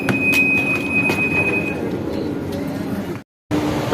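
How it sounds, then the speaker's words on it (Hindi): Riding a metro train in Portugal brings a steady rumble of wheels and carriage noise with a thin squeal, broken by a brief drop-out near the end, while someone talks quietly. "मेरी मेट्रो आ गई है"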